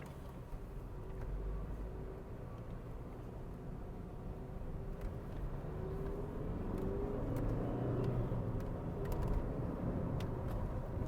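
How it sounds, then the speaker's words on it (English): Interior drone of a used car during a test drive, a low steady engine and road rumble that swells slightly, with faint creaks and no talk. "it's really good to drive this car. Running smoothly, strong enough, power enough."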